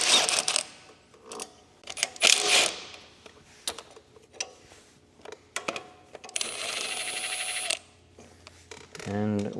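A 1/2 inch wrench or socket works the belt bolt on a Yard Machines rototiller, producing sharp metallic clinks and taps, then a steady run of quick ratcheting clicks, close up with brief talking in between.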